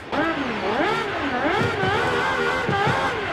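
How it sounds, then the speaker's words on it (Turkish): A high, screaming V12 engine of a 2023 Aston Martin Valkyrie in Forza Horizon 5 revs and wails continuously, rising and falling in pitch, loud and close. "bu V12 Formula 1 sesi"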